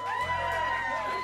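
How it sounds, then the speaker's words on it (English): Jazz club audience at Smalls cheering and whooping for the drummer of a quartet, a broad crowd roar under sustained instrumental tones, moderately loud throughout. "Throw a round of applause for him."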